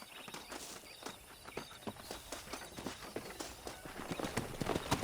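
Steady clip-clop of horse hooves trotting close by in the video game Red Dead Redemption, a quick repeated rhythm over a faint background hum.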